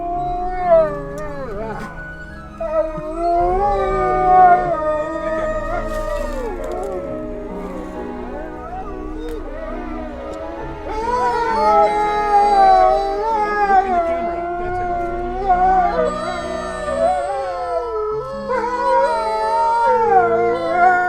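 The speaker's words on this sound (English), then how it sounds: "And they started a howl." A pack of wolves at a wolf conservation park howls in long, overlapping, rising and falling tones, with several voices layered together and continuing loudly through the whole stretch.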